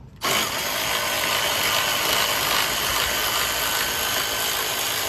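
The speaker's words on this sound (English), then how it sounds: "So we're doing some power tools now" A power tool starts abruptly and runs loud and continuous nearby, a harsh, high whirring buzz like an impact driver removing bolts during a suspension install on a third-generation Toyota Tacoma.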